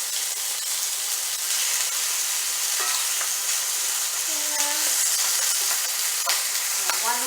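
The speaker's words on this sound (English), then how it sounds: "It's going to get crowded, but it's okay because I'm only going to quickly fry it." Chicken pieces frying in a crowded skillet for chicken adobo, giving a steady close sizzle throughout with a few brief tonal squeaks and stirring noises, no talking.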